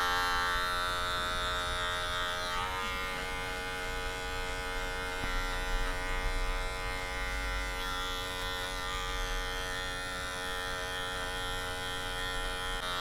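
An electric hair clipper buzzes steadily and close up for the whole stretch while cutting a mid fade, its tone dipping slightly once as it meets the hair, with no talking.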